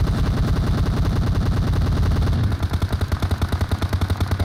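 Gunfire in PUBG Mobile: loud, rapid automatic bursts rattle without pause, then shift to a slower, heavier rhythmic firing pattern, close and dominant.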